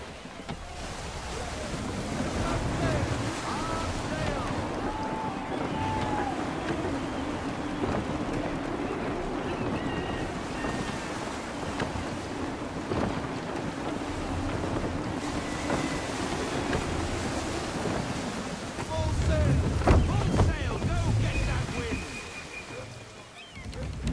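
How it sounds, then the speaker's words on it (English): Wind gusting and water rushing while a sailing ship cuts through the sea in Assassin's Creed III, a steady broad roar throughout with a swell of louder surf near the end, and a voice speaking over it. "Wind looks to be shifting. Stay alert, Connor. Gusty winds can be difficult to manage."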